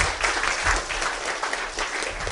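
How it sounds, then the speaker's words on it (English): An audience claps for a speaker at a forensic entomology talk, dense applause heard close and continuous throughout, with no voices over it. "So let's give a round of applause to Martin Hall."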